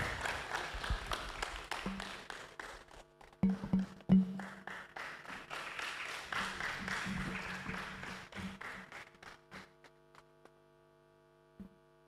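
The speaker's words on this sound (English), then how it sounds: "Let's welcome him with a round of applause." An audience at a public university lecture on hypertension claps in a round of applause that builds and fades over several seconds, with scattered sharp claps, steady mains hum throughout and a few last claps trailing off.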